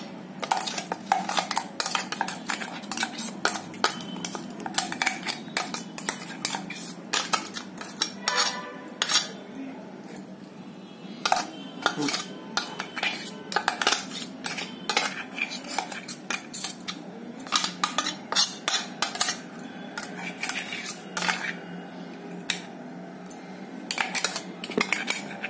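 Ground sweet corn is scooped from a grinder jar into a bowl, heard as a long run of close metallic spoon scrapes, clinks and taps against the containers in a rapid, uneven rhythm.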